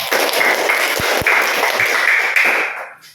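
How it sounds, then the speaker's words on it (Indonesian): Classmates in a school classroom applaud a student group, a dense, steady burst of clapping lasting about three seconds with a couple of sharp thumps mixed in before it thins out at the end. "tepuk tangan untuk kelompok Soleh"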